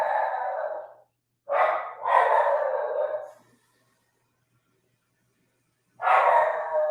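A dog barks indoors in bursts, one short sequence, then two more close together, a long pause and another, each loud and near with yelping, howling tones.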